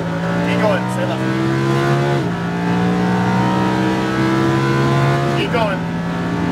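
A Lamborghini Huracan accelerates hard on a track, its loud engine note rising steadily through the revs with a couple of sharp dips at gear changes, while a voice talks over it.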